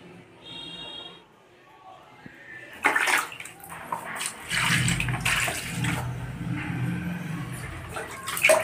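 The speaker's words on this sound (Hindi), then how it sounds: "धुल गए मतलब दोनों पैंटें धुल गई" Pants are washed by hand in a tub of water, with sloshing, splashing and wringing sounds near at hand, while someone talks over the washing.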